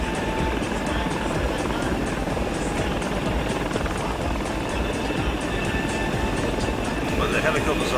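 Continuous loud helicopter rotor drone in the flight simulator FlightGear with a steady whirring thrum, unchanging throughout, a faint voice briefly near the end.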